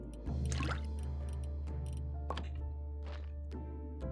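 Water splashing onto garden plants in the video game Graveyard Keeper: a soft liquid splash and squishy thunk near the start, then a few fainter drips and thuds over a steady low game-ambience hum.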